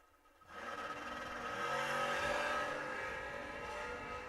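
The Johnny Reb Camaro drag race car at the Mike Smith Memorial Race roars up from near silence into a sustained, rising engine drone, loud and steady with a faint whine on top.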